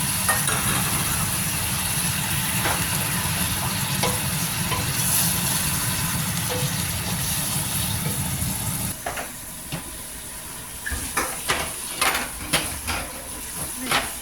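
Chopped tomatoes cook in a pan with a steady, close hiss and sizzle that turns quieter and more crackly toward the end, with scattered pops and clicks.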